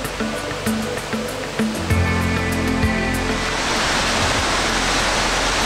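A waterfall in Lenk, Switzerland, fills the scene with a constant roar of rushing, crashing water, steady and loud, with some mechanical humming, likely a gondola, in the first half.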